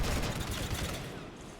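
Video-game gunfire raking a ship, a dense rattling fusillade of rapid shots, fairly faint and steady, tapering slightly toward the end.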